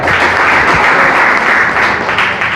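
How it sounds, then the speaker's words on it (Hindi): Loud, dense audience applause at a business seminar, sustained clapping from a large crowd that stays strong throughout with no voices over it. "तो जोरदार तालियां हो जाएगा"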